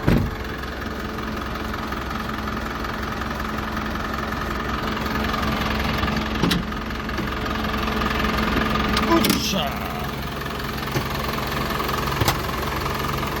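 The diesel engine of a 2019 Hyundai Mighty 2.5-ton truck idles steadily with a low, even rumble and slight knocking vibration, a couple of brief clanks and clicks cutting in.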